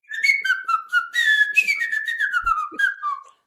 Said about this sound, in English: I can still sort of whistle, but it comes out like air